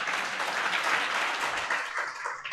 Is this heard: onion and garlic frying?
no